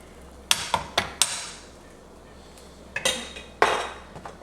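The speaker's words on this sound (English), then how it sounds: "So we can give this a stir" A spoon knocks and scrapes inside a pot of Cajun chicken and sausage gumbo, several sharp metallic clinks in a quick cluster, a pause, then a few more taps against the rim.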